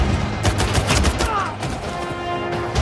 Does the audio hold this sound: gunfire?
yes